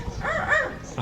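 A short, strained bark-like sound with a nasal, tonal quality, a parrot imitating a ferocious dog's bark rather than a real dog.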